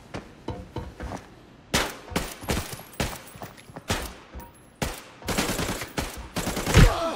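Gunfire rattles through a raid in Arena Breakout, with loud irregular shots and short bursts arriving in quick clusters, some near and sharp and others more muffled, spread across the whole stretch.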